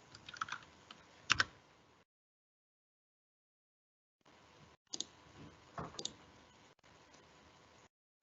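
Quiet, close typing on a computer keyboard comes in two bursts of rapid key clicks separated by a silent gap of about two seconds.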